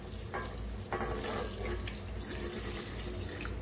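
Water pours from a glass into a pot of rice while Tamil Nadu-style kushka is being cooked, a close, steady splashing stream with a few short bursts as more water goes in.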